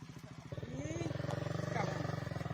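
Motorcycle engine running at a steady idle and rev, with a close, pulsing exhaust rhythm that holds loud throughout a riverside nature ride.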